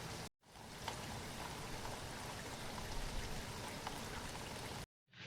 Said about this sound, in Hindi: बारिश बहुत तेज़ हो चुकी है